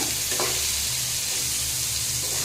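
Green chilies fry in hot ghee in a pan with papaya and bay leaf, giving a steady, loud, close sizzle throughout, with no talking.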